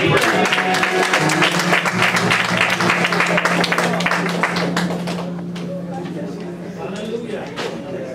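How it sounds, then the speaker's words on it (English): A church congregation at a pastor's appreciation service breaks into loud, dense hand clapping that runs throughout, easing slightly toward the end, with a voice speaking over it. "Come on, let's give her a hand clap."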